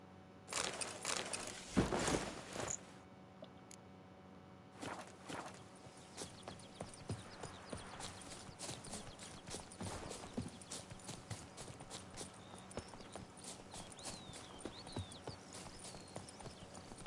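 Roach, the horse in The Witcher 3, walking with steady clip-clopping hooves, close and fairly clear, with a louder burst of movement near the start.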